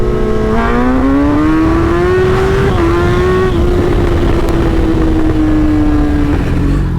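A sport motorcycle with an aggressive tune is heard close and loud, its engine note climbing steadily under a continuous rev, then holding and easing slightly, with no voices.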